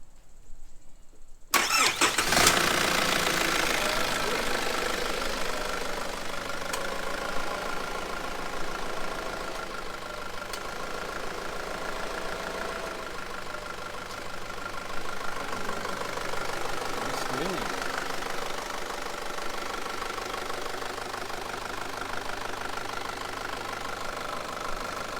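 A Nissan ZD30 diesel engine cranks and catches after a short silence, then settles into a steady, slightly knocking idle, heard close up with no talking.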